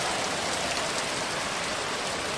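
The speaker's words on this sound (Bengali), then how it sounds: "গাড়ির বাইরে বড় বড় ফোঁটায় বৃষ্টি পড়ছে।" Heavy rain falls outside a car in large drops, a dense, constant hiss of water striking the surface that stays steady and loud throughout.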